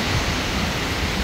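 Swollen Los Angeles River floodwater rushing through its channel during a February 2024 atmospheric river storm, a steady, dense, full-bodied roar of turbulent water, loud and unbroken with no voices.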